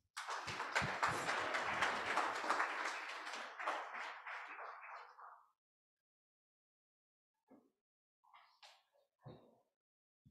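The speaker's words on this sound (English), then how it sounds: "So a round of applause for them, please." An audience at a presentation event applauds for the speakers: a burst of dense clapping lasts about five seconds, then thins and stops, leaving a hush broken by a few scattered knocks and shuffles.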